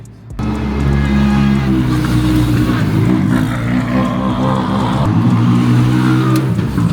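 A Toyota GR rally car engine idles and revs nearby at a rally event, a loud, steady, rumbling drone that continues for several seconds with slight rises in pitch.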